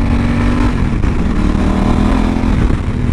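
A Honda Africa Twin motorcycle engine drones loud and close while riding, a dense steady roar with wind buffeting and no speech.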